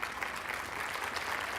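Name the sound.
audience applause for the DJ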